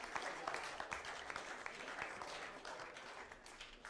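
Spectators at a 2013 racquetball match in Idaho break into a steady round of applause, dense clapping filling the venue throughout, with a commentator's voice faintly underneath.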